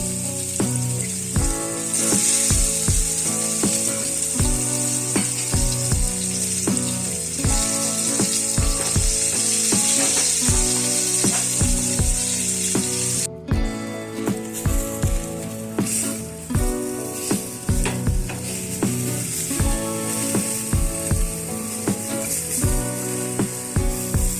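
Eggplant slices fry in a pan with a constant sizzle, punctuated by repeated clinks and scrapes of a utensil against metal.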